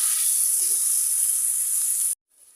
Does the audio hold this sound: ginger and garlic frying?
yes